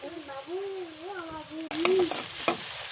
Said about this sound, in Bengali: এখন আদা কষাই নেব যাতে গন্ধটা না থাকে